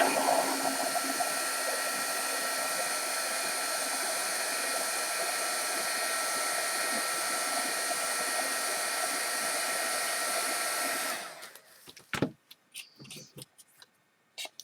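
A heat gun blasts a plastic water bottle with a steady, loud, close airy roar and a high whine, then switches off and gives way to a few handling clicks and taps.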